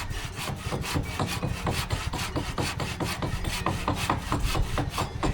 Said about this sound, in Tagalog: Medyo matagal bago ko naputol ang kawayan.